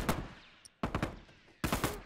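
Shotgun blasts in The Last of Us Remastered multiplayer, three sharp, loud, close reports spaced nearly a second apart, each with a short echoing tail, and near-silence between them.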